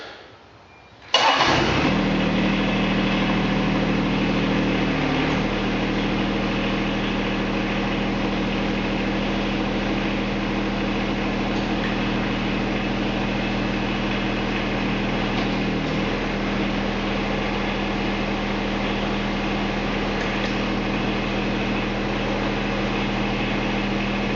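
A John Deere X series lawn tractor fitted with a 7-Iron mower deck cranks and catches after a second, then its engine settles into a steady, loud, close idle that runs evenly with a slight shift midway.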